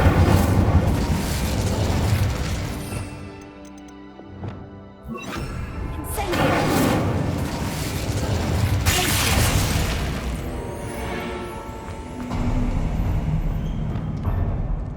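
Incendio fire spell cast in Hogwarts Legacy, loud roaring booms and bursts of flame that swell and fade in waves over a rumbling game soundscape, with a brief lull near the middle.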